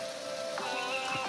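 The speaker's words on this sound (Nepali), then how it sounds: "पानी परिरहेछ" Rain falling steadily outdoors, the first shower after a long dry spell, with a dense even patter of drops and a few faint tonal sounds in the background.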